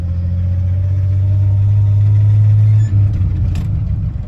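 A 1977 Chevrolet C10 pickup's 454 big-block V8 runs with a loud, steady low rumble close by, holding an even idle before a brief dip and throaty revving near the end.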